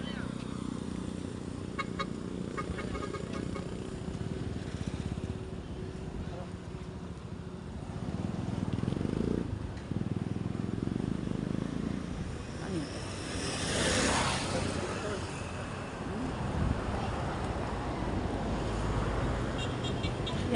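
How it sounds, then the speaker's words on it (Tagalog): A jeep rides through Nasugbu with a continuous engine and road rumble, one brief high squeal or horn-like burst partway through, and voices talking throughout. "Tatawid po kami, sakay kami ng jeep."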